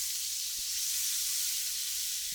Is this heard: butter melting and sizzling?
yes